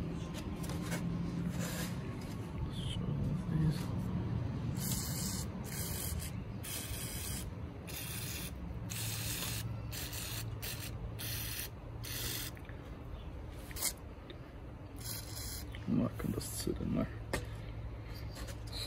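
Contact cleaner sprays in repeated bursts onto the connections of a Commodore Amiga 500 during cleaning, with short hissing blasts mixed with mechanical handling clicks and rattles.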